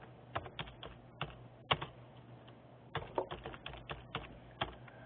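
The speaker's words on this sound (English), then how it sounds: "I type in my search term and press Enter" Computer keyboard typing a library catalog search, with quiet irregular clusters of key clicks spread across several seconds and a brief pause in the middle, heard close and alone.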